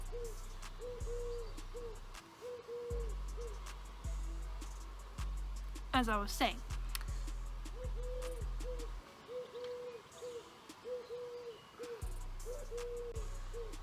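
A pigeon cooing indoors in soft, repeated hooting phrases at a steady rhythm, fairly faint beneath a man's speech and a thumping background beat.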